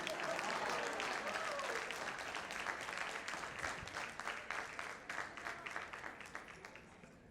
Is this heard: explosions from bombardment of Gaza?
no